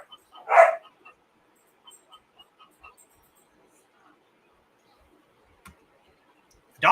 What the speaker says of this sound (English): The dog is having a fit.